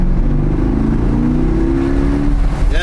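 Sports coupe engine revs hard and close, a loud low throaty roar that climbs and holds for a few seconds, then eases off near the end.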